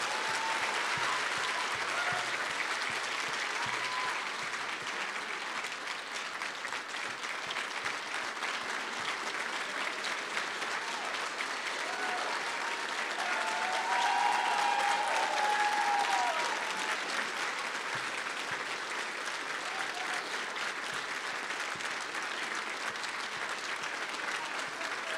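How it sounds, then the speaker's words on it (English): An audience at a Veterans of Foreign Wars founder's dinner gives sustained, dense applause that swells a little midway and carries on for about twenty-five seconds, with faint crowd murmur beneath. "please join me in a round of applause for the 442nd Regimental Combat Team"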